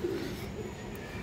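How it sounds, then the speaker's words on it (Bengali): A khaki female pigeon, silver-marked, gives a brief soft coo, faint and close against quiet background noise. "স্পেশাল একটা খাকি মাদি কবুতর আছে মাশাল্লাহ"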